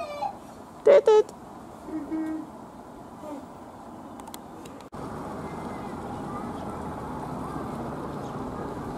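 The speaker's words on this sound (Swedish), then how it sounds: "Massa fåglar." Ducks and geese just outside a playground in Trollhättan give a short burst of loud quacks and honks near the start, then fall quiet against a steady outdoor background hum.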